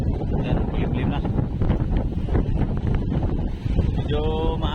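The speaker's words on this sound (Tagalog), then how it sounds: "malakas-lakas yung hangin ngayon" Strong wind buffets the microphone aboard a small boat heading out to choppy open sea on an overcast afternoon, a steady loud roar with water splashing and a faint voice in the background.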